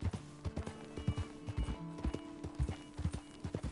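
Horse hooves clip-clopping steadily in Red Dead Redemption 2, a brisk, regular rhythm of soft thuds close by, with faint background tones and no talk.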